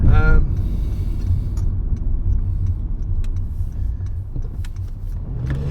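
A car rolling along a rough road in need of resurfacing, with a continuous low rumble and road noise, a few small knocks and rattles, and a voice talking over it.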